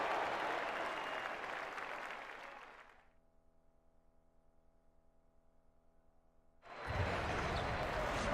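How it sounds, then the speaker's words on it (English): An arena crowd at the Air Canada Centre in Toronto applauds in an NBA 2K18 basketball game, dense loud clapping that drops out for a few seconds of low humming tones before the full applause bursts back in. "The crowd is assembled at the Air Canada Centre, looking for a Raptors victory here in Toronto."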